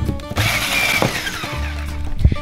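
An electric mixer whirs loud and close through pancake batter made with flour. Its continuous buzzing motor shifts slightly as it works, with a few brief knocks.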